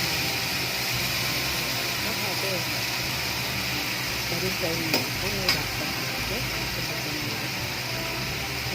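Potatoes fry for an aloo fry with garam masala and pepper, stirred by hand in a pan: a steady close sizzle with scraping stirs and a couple of sharp clacks, while a person talks over it.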